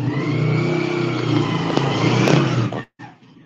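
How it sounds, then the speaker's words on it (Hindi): A motorcycle engine revs loudly and steadily close by on a phone call, its drone holding for nearly three seconds before cutting out abruptly, followed by a faint tail. "बाइक की आवाज आ रही"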